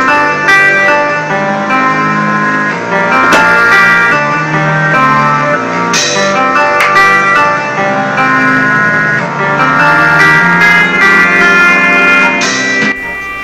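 Sega CD game music runs through a Model 2 Sega CD connected to a Model 1 Genesis by the headphone port, loud and continuous with layered synth tones and effects, and no talking.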